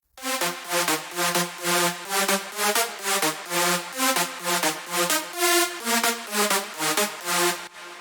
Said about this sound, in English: So overall, the leads sound like this.